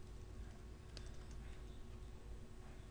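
Quiet clicking of keys on a computer keyboard, soft and fairly steady, heard alone against a low background hum.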